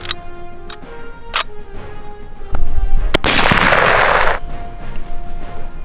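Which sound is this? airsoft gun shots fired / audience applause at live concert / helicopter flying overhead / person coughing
airsoft gun shots fired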